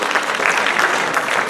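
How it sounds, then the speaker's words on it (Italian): An audience at a conference on youth, politics and Europe in Sapri claps for a lawyer, a short burst of steady, fairly loud applause. "un applauso anche per l'avvocato Palazzo"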